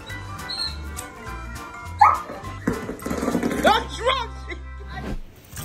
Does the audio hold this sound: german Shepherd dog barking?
yes